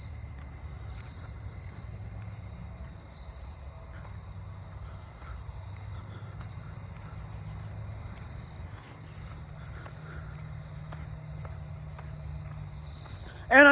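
Crickets and katydids buzzing at night in a neighbourhood, a steady unbroken drone of insect calls throughout, faint and fairly distant, with a low background hum and a brief louder knock at the very end.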